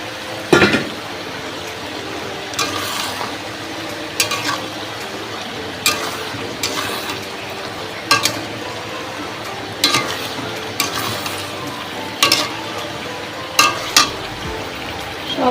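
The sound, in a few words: turmeric salted meat frying in a wok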